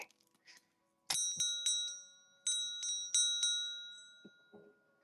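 A singing bowl's bright metallic rings struck several times in quick pairs, each with a clear sustained tone that fades slowly, followed by soft handling clicks.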